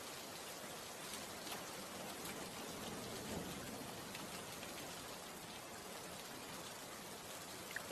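Steady rain falling in a village during an all-day downpour, a continuous even hiss with dense patter and no voices, holding level throughout.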